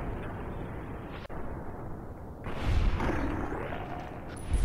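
Survivalist rifle fire in Fallout: New Vegas inside a cave, heard as a sharp single crack amid a dense, rumbling wash of combat noise that swells louder toward the end.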